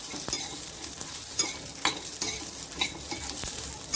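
Peeled garlic cloves and chillies sizzle steadily in a hot pan while a spatula stirs and scrapes with light clinks, close and continuous, no talking.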